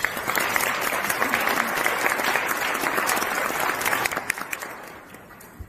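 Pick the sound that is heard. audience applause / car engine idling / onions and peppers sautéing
audience applause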